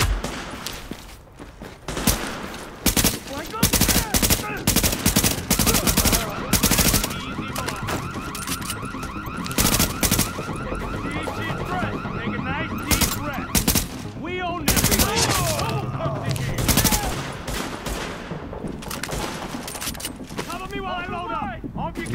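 Rapid gunfire rattles through a firefight in The Division, dense bursts of automatic shots and single cracks layered close and loud across the whole stretch, with players talking in between.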